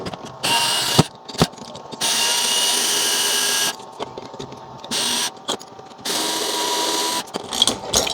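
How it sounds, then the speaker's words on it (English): Power screwdriver backing out the screws of a door handle while fitting a smart fingerprint lock; several short bursts of steady whirring, fairly close, separated by brief pauses and small clicks, with no talking. "Undo the screws."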